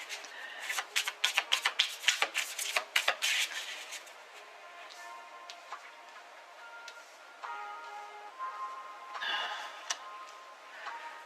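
Tarot cards are shuffled by hand in quick bursts of crisp riffling and tapping, busiest early on, then sparser soft flicks and slides; close and fairly quiet, with no talking.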